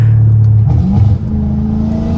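A straight-piped Dodge Challenger Hellcat Redeye revs up close, its deep exhaust rumble swelling and dipping, then settling into a loud, steady growl.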